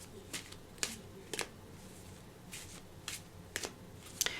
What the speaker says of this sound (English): I'm going to pull a card now for that.